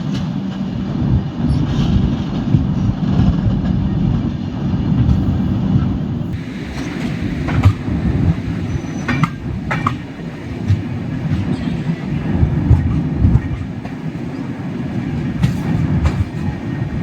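The 16333 Veraval–Thiruvananthapuram Express rolls along the rails, heard from on board as a loud, continuous rumble with rhythmic wheel clatter and occasional sharper clacks.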